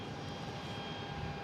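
A Lufthansa Airbus A350-900 from Munich comes in to land at Boston Logan, its steady engine roar filling the short stretch at a constant, fairly loud level with no voices.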